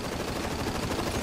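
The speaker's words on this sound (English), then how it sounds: "he's shooting me!" Enemy gunfire in Ghost Recon Future Soldier rattles in a rapid, continuous automatic burst, loud and close, filling the whole short moment.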